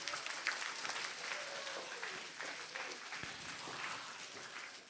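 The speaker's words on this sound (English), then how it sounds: "Ladies and gentlemen, another round of applause for Cisco at number 2." An event audience applauds Cisco, second-place finisher, with steady moderate clapping, a bit distant and faint, with some crowd murmur mixed in.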